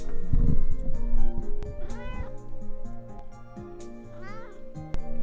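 A cat meows several times, drawn-out and whiny, close to the microphone, mixed in with someone speaking.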